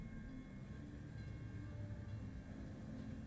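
A train passing in the game Lost Records: Bloom and Rage, a faint distant low rumble of rolling wagons with a steady hum, quiet and continuous with no talking.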